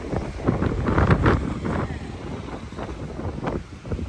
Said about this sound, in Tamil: இன்றைக்கி வந்து நம்ம காற்று நல்ல உரமாக இருக்குது